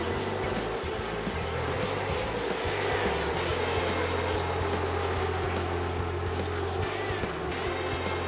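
Loud, continuous roar of many stock car engines droning together at close range at the start of the 2002 Daytona 500, a dense, unbroken mechanical rumble without voices.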